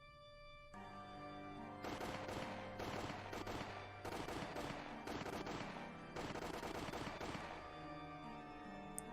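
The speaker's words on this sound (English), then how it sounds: "The sound of the gunshots echoed in the silence." Rapid bursts of automatic video game gunfire crackle in repeated volleys over a steady background hum, loud and close, with brief pauses between strings of shots.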